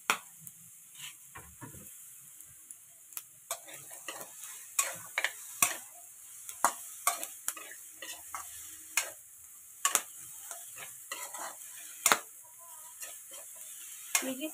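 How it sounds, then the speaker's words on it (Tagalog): Food sizzles quietly in a pan while a utensil scrapes and taps against it in irregular clicks. "Igisa ko lang to dito"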